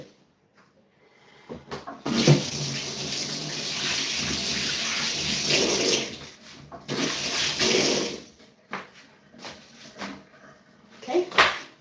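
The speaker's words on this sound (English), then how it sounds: "So let me wash my hand." Hands washed under a running kitchen tap during a cooking livestream: a steady splashing stream runs for several seconds, pauses, resumes briefly, then gives way to scattered drips and handling sounds, with faint talk nearby.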